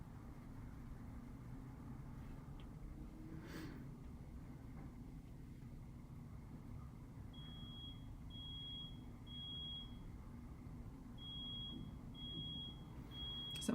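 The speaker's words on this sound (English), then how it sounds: "Someone else's smoke alarm." A neighbour's smoke alarm sounds faintly from a distance in a studio: short, evenly spaced high beeps repeat through the second half over a steady low hum.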